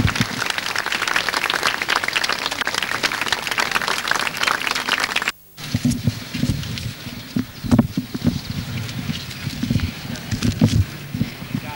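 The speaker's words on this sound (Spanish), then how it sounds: "el aplauso de todo el público que viene a despedir a Diego Ibáñez." Crowd applause at a funeral in Mar del Plata, Argentina: dense, loud clapping for about five seconds, a sudden cut, then more scattered clapping with rustling and footsteps in an outdoor setting.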